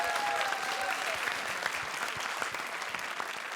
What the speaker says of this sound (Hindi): तो जोरदार तालियों से उनका हौसला बढ़ाइए।